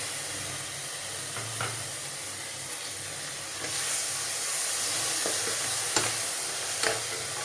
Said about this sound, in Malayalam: ഇത് ഒരു രണ്ട് മൂന്ന് മിനിറ്റ് ഒന്ന് വഴറ്റിയെടുക്കാം